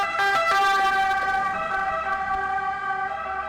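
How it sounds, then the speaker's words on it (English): A wailing emergency vehicle siren rises and falls steadily, fairly loud and close, with a low traffic rumble underneath, on a street in Florence, Italy. "maybe I shouldn't talk while sirens are behind me."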